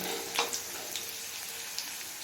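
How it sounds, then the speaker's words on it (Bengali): Potatoes cut into long strips fry in oil in a pan with a soft, steady sizzle and a few scattered crackles and pops, fairly quiet and with no voices. "এবার এই আলুটা লাল করে ভেজে নেব আলুটা লাল করে ভেজে নিয়েছি"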